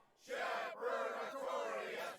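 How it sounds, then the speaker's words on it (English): A crowd of people in the video game Tales of Berseria, a steady mid-volume murmur of many voices shouting together, rising and falling over about two seconds. "There's the crowd I was looking for."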